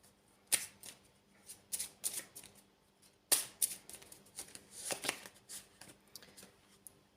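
Angel's Whisper oracle cards shuffled by hand in close, crisp bursts of riffling and flicking, several quick rounds separated by short pauses, quiet with no talking.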